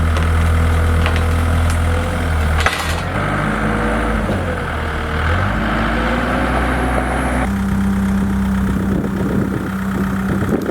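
Forklift engine idling and running steadily while lifting a giant 101-foot seesaw, a continuous loud mid-to-low rumble with a slight shift in pitch partway through.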